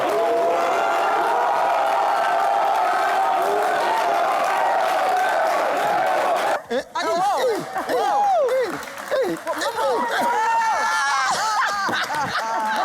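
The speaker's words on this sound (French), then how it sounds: "On applaudit Madame l'ambassadrice." A studio audience at a French daytime talk show applauds steadily, then the sound shifts into lively crowd noise with cheering, laughter and overlapping voices.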